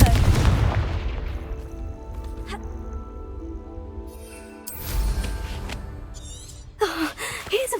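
Repeated Confringo fire spell blasts from Hogwarts Legacy hit with gunshot-like booms, an opening explosion, a later burst around the middle and another sharp hit near the end amid game ambience.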